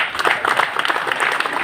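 An audience at a parish celebration in Sarupathar, Assam, for Azadi Ka Amrit Mahotsav gives a short burst of close, fairly loud clapping.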